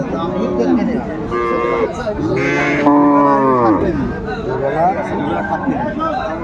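Cows with calves at a busy cattle market give several loud, drawn-out moos close by, overlapping one another above a low murmur of people talking.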